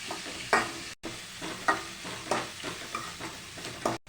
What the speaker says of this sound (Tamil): வெங்காயம் வந்து நல்லா வசங்கட்டும்